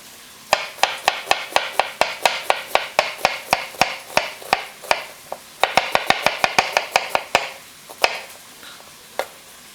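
A knife julienning a peeled, halved sweet onion on a cutting board, with rapid, crisp chops in quick steady runs, a brief pause midway, then a few slower final strikes.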